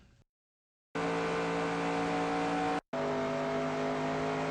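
Race car engine in the NASCAR Racing 2002 video game at Charlotte, a loud steady high drone broken by a short silence and a brief cut, with no talking over it.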